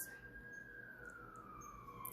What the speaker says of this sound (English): While the sirens go off, let me pull it back in on this topic.